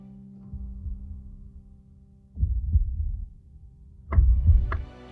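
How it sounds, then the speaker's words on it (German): Low, muffled heartbeat pulses in a steady pattern, soft and distant, with a faint hum beneath and brief quiet gaps between groups of beats. "Einen Herzschlag aus der Ferne, leise, beharrlich"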